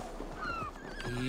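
A horse whinnies in a short, wavering call in Assassin's Creed: Valhalla, rising and falling over a soft background, with no speech.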